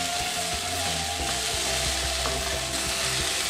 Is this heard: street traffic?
no